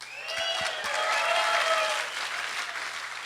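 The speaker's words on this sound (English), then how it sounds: "so there's the round of applause" Audience applause at a startup pitch day event, a steady round of clapping from a crowd that swells and holds at full strength, with no talking over it.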